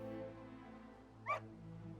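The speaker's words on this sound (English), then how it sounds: "Dog!" A single short, quiet dog bark or yip from a dog in Dragon Quest VII Reimagined, a brief bright burst over a soft, steady musical background.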